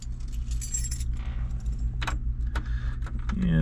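Keys jangle and clink as they are picked up beside a 1969 Ford Mustang Mach 1, several sharp metallic rattles over a low idling rumble.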